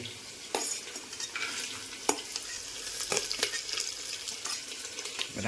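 Tempered khichdi sizzles in a pan while a spoon stirs and scrapes through it, with sharp clinks and bursts of frying over a steady hiss and no talking.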